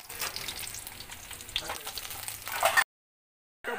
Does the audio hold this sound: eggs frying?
yes